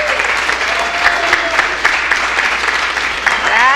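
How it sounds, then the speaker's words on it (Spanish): A church congregation at a Sunday celebration service gives a loud round of applause, dense steady clapping with a few voices and cheers rising over it. "Dense un aplauso, por favor"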